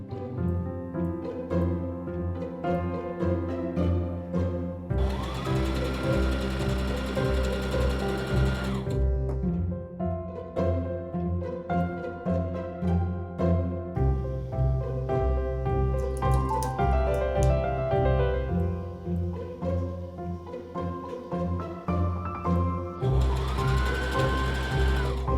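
A sewing machine stitches pant legs for a cosplay costume, its needle chattering steadily in close, loud runs with brief pauses and higher whirring bursts between seams.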